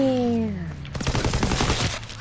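Rapid SMG hip-fire bursts in Call of Duty, a dense run of close, loud shots after a brief falling tone.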